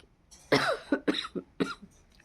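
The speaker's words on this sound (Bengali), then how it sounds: "কি যে খুশখুশি কাশি হচ্ছে" A dry, tickly cough comes as a quick cluster of four or five short, harsh bursts close to the listener, followed by quiet.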